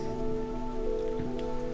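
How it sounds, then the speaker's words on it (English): Rain falls steadily outside, a soft even patter under a constant low hum, with no voices. "So it's raining outside"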